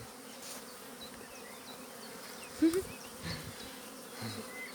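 Honey bees buzz around a beehive frame as a small hive box is moved into a full hive, with a dense, steady drone close by and brief French speech over it.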